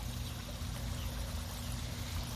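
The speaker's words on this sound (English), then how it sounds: "We also have a water feature in the middle of the pond." Water trickling steadily from a fountain feature in the middle of a backyard koi pond, a continuous soft splashing wash heard close and alone without voices.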